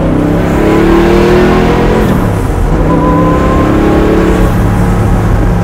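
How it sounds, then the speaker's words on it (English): Twin-turbo Camaro revving loudly and continuously up close, a steady engine roar rising and falling with throttle as the turbo blow-off valve releases. "Now you're hearing the blow off."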